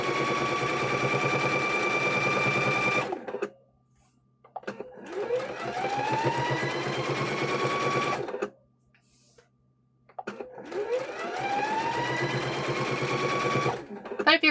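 Sewing machine stitching a kitchen hand towel in three bursts of rapid, whirring motor hum separated by short pauses, close and steady, each run starting with a rising pitch.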